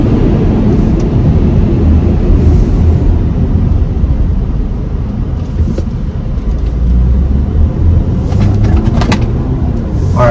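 A 2023 Audi Q5 compact SUV heard from inside the cabin while driving, with a loud, steady road and engine rumble throughout and no talking.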